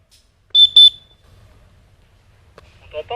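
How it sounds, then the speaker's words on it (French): A whistle blown during a Battlefield game session: two sharp, shrill back-to-back blasts, then quiet low background, with a voice starting to talk near the end. "Je vais lâcher un coup de sifflet"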